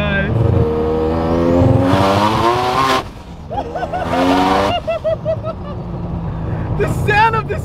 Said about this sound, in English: The sound of this car is on another level.